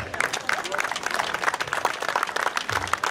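Crowd at a lavender festival in Barrême applauding a boy, dense clapping mixed with lively chatter and voices close by.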